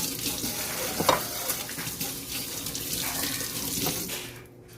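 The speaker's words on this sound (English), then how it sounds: "let me wash my hands real quick" Water runs from a kitchen tap as hands are washed, a steady close splashing stream with a few louder splashes, cutting off abruptly at the very end.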